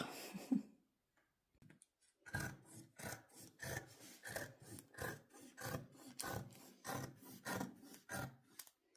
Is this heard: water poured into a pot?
no